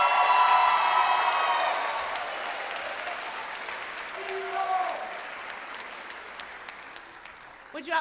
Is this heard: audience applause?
yes